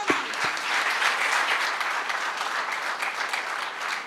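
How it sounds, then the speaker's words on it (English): An audience at a school CBSE +2 convocation ceremony applauds in a dense, even wash of clapping that holds steady for a few seconds, with a couple of sharper knocks at the very start. "Dear audience, don't they deserve another big round of applause?"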